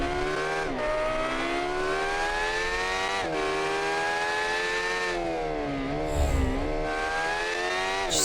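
Ford Gr. 5 race car mod in BeamNG revving hard, a high-pitched engine wail climbing and dropping through several sharp rev sweeps toward 12,000 RPM, loud and close with no talk.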